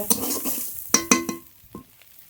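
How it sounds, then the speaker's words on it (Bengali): Ghetkol leaves stirred and fried in a pan, with a few sharp clinks of a spatula against the pan and brief bursts of sizzle, loud and close, spaced irregularly before fading into quiet. "আস্তে আস্তে জাল দিয়ে নেড়ে নেড়ে ভালো করে ভেজে নেব"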